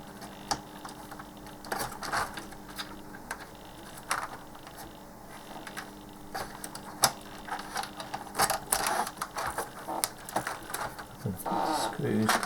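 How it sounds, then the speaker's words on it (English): Screws being driven back into the case of an Amstrad CPC 464 home computer, a run of quiet ratcheting clicks and small plastic creaks from a screwdriver, close and soft, growing busier toward the end. "put the screws back in."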